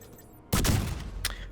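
Sticky fire skill detonating in The Division 2, one sudden loud burst followed by a fading, crackling tail and a second smaller pop about three-quarters of a second later, with no talking.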